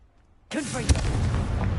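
The Confringo fire spell bursting in Hogwarts Legacy: an abrupt loud whoosh and explosive pop, then a sustained crackling rumble, close and heavy, with a voice calling out over the onset.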